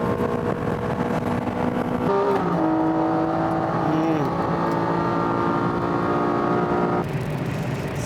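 A Honda NSX and a Mitsubishi Lancer Evolution race head to head at the SUGO circuit, with loud, sustained engine roar, pitch shifts through the gears and a continuous dense racing drone with no talk.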